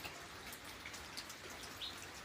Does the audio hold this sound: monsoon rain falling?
yes